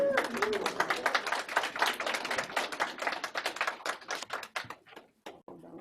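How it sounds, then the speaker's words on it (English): An audience at a healthcare gathering gives a round of applause: dense, fast clapping that swells and then thins to a few scattered claps at the end. Talk sits under the start. "Big round of applause, ladies and gentlemen."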